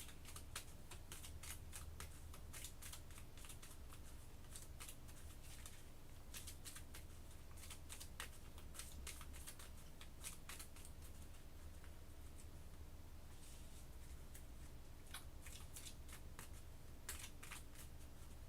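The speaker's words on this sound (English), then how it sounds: "But I will shuffle the hit location deck." Shuffling a hit location card deck for the Kingdom Death: Monster board game produces steady, close riffling and snapping of cards that runs throughout, with no talk over it.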